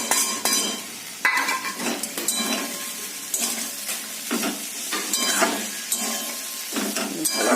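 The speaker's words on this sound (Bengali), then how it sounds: "এই যে মাছ ভাজাটা এর মধ্যে মিশিয়ে দেবো" Fried kanchki fish is stirred into a boiled vegetable chorchori in a pan, with a spoon scraping and clattering against the metal over a continuous sizzle.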